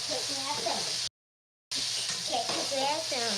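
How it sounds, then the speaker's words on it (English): Chicken sizzles and fries in a stir-fry pan, a steady broadband hiss that holds loud and close, broken by a brief silent gap midway, with faint talk underneath. "Processed frying, one of the best sounds of cooking"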